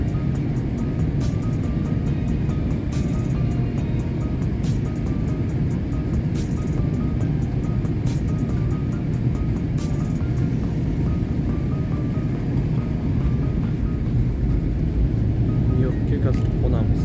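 Steady, loud droning rumble inside an airplane cabin during descent toward New York JFK, continuous engine and air noise with faint clicks and tones, while a person talks over it.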